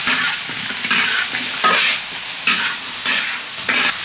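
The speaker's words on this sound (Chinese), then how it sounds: "再放一勺白糖进去，翻炒翻炒" Spare ribs stir-fried with pepper and sugar in a hot wok for a dry-pot dish, a steady loud sizzle broken by repeated scraping bursts of the spatula turning the meat, with no voices.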